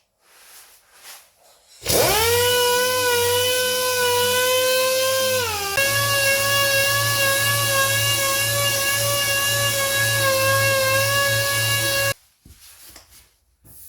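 A high, whining rotary sander spins up and grinds steadily against an epoxy-primed panel for about ten seconds, its pitch dropping slightly midway, then cuts off.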